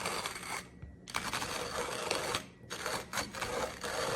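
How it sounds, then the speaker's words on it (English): A TIMEMORE manual stainless steel conical burr grinder cranks through coffee beans, giving a dense, continuous rasping crunch close by, broken by brief pauses and quick restarts as the handle turns. "Push that down there, and then you start grinding."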